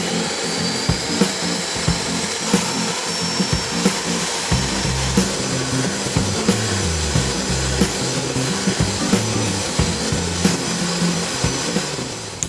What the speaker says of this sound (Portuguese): pegando 2 copos, 500 ml, ou meio litro, de creme de leite e vamos bater com batedeira